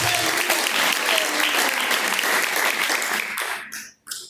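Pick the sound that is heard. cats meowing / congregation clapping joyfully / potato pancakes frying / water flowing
congregation clapping joyfully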